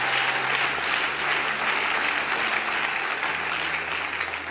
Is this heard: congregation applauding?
yes